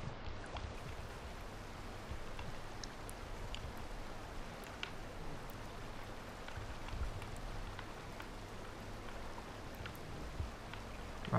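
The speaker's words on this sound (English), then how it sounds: "Oh no, don't tell me the rain's about to happen again." Rain begins in the video game Rain World: a steady, dense hiss of downpour fills the whole stretch at an even, moderate level, with scattered faint drip-like ticks on top.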